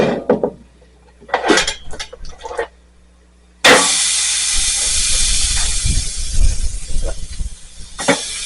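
Ribs dropped onto a Big Green Egg grill heated to 300 degrees burst into loud, steady sizzling hiss that starts abruptly and continues, after a few quieter clatters of handling.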